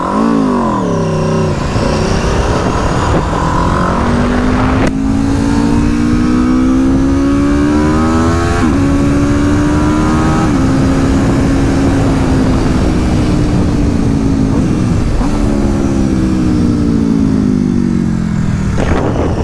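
A 2022 Aprilia RSV4 motorcycle engine roars loud and close, climbing through gears in repeated rising sweeps, each upshift marked by a brief dip before the pitch climbs again as the bike accelerates away.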